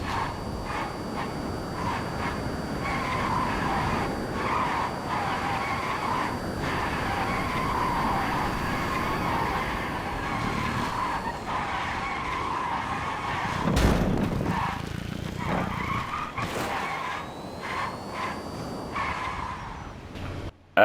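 Electric one-seater Surge vehicle in a video game driven on a test run, its steady motor drone with tire skids and squeals running continuously, one louder burst midway, no talk over it.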